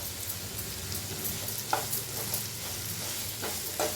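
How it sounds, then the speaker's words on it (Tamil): Onions sautéing in a pan for Tamil-style egg roast; quiet, close sizzling with a few soft scrapes of stirring over four seconds, no speech. "இப்போ வெங்காயம் பாதி அளவு வதங்கிடுச்சு"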